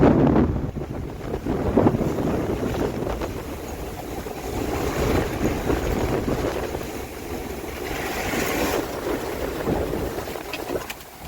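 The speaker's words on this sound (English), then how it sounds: "These are just big waves. Stack of waves." Gale-force wind and big stacked ocean waves aboard a sailboat on a passage from the Solomons to Australia: a continuous loud roar of buffeting wind and rushing water, with no voices.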